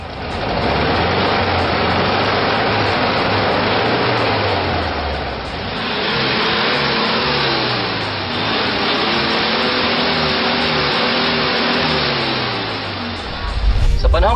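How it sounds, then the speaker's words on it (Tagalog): A 40-year-old engine, not yet treated with GT oil, runs loud and close for the whole stretch: a steady mechanical drone with a slow rise and fall in pitch and a brief surge near the end. "Yan po ang tunog ng ating 40-year-old na makina, untreated po ng GT oil."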